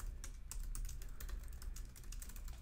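Quiet, steady typing on a computer keyboard, a quick run of soft key clicks continuing without pause and without talk.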